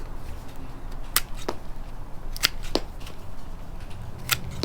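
Hand pruners snip through fig tree branches, cutting them into short pieces, with several sharp, close clicks spaced irregularly over a quiet outdoor background.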